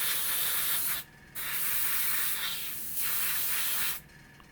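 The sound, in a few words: spray primer being sprayed onto plastic Airfix Tiger 1 model kit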